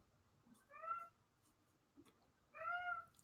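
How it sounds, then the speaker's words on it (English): A pet cat named Ninja meows twice indoors, two drawn-out faint calls a couple of seconds apart over a low background hum. "The cat's going, I protest"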